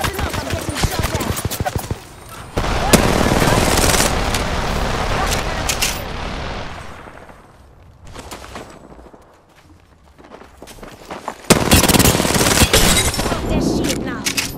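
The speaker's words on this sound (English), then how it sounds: "Listen up, I'm getting shot at." Rapid gunfire in an Apex Legends match, loud bursts of automatic shots near the start and again at the end, with a quieter stretch between and game voice callouts mixed in.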